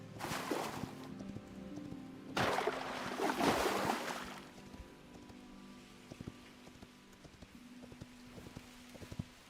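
A horse's hooves clip-clop in the video game Hytale, sparse crisp knocks in a loose rhythm, with two bursts of rushing, rain-like noise early on.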